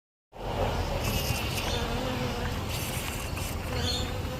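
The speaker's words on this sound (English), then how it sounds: "here's a blue-banded bee. He's just buzzing around the flowers here at the moment" A blue-banded bee, a native buzz pollinator, hums steadily and close while working garden flowers in a backyard plot, its continuous buzz starting abruptly and holding without pause.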